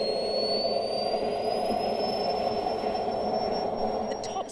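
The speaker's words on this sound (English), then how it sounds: "when it starts up, it sounds exactly like a Boeing starting up" A remote-controlled mini fighter jet engine running on Jet A fuel gives a steady loud turbine roar, close by, with a high rising whine above it throughout.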